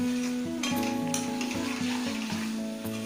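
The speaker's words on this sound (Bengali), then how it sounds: "মশলাটা একটু ভালো করে আগে থেকেই কষিয়ে নিতে হয়" Spice masala sautés in a pan ahead of the fish, a soft continuous sizzle under a strong steady tonal hum, with a few brief scraping stirs and clicks and no talking.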